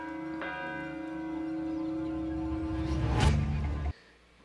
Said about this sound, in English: They should have had a more unique bell ringing system.